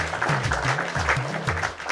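A studio audience at a Yoruba children's game show claps steadily and fairly close, with voices mixed into the applause.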